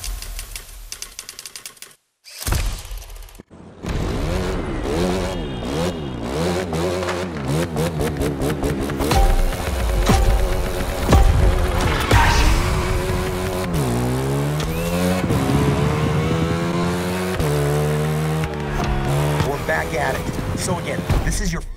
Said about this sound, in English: You get on that bike, driver, and you give me a two-wheeled Concerto that'll make Steve McQueen look like a bicycle